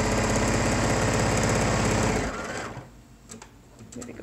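A sewing machine stitches a seam on a cotton face mask, running in a loud, steady, rapid chatter for about two seconds before stopping abruptly, leaving quiet handling noises afterward.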